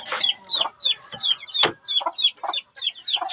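Chickens cluck with the high peeping of newly hatched chicks mixed in, a busy, close run of short overlapping calls with no talk.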